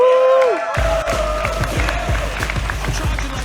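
Crowd at a LAN gaming tournament's grand final cheering, whooping and clapping loudly for the finalists, a dense, steady roar after a brief electronic tone.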